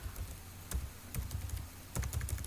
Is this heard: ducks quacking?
no